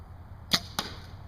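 An arrow loosed from a Browning Rage bow hits a water-filled target: two sharp, close impacts a quarter second apart, crisp and loud against a quiet outdoor background.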